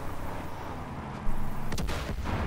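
A sudden explosion in the video game Far Cry 5 bursts in partway through, loud and booming over continuous game ambience, followed by a sharp crack-like burst and rumbling debris.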